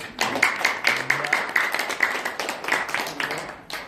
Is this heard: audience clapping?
yes